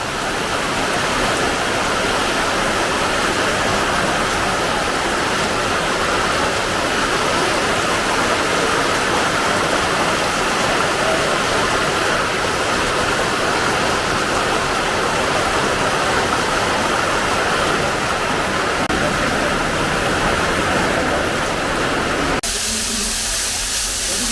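A rain-swollen stream rushes loudly and steadily in the rain near Mundakayam, a dense unbroken roar of water close by that drops away abruptly just before the end.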